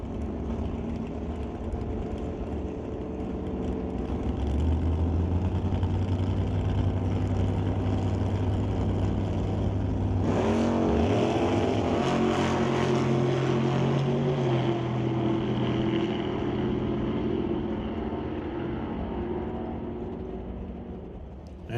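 Drag racing cars, including a little black wagon, roar off the line at a drag strip; engines rumble at the start, then surge loudly in a sustained rising drone that fades toward the end.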